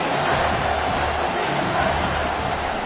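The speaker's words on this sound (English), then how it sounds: "this crowd is tearing the lid off this place" Stadium crowd at a Washington vs Baylor college football game, a dense steady roar filling the space with no breaks, loud throughout and with no clear voice on top.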